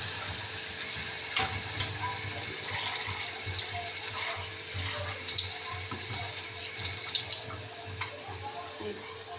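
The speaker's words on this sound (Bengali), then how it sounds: "জল দিলাম" Tap water runs into a bowl of ground mustard paste with green chillies, a steady splashing stream that goes on for several seconds and then cuts off near the end.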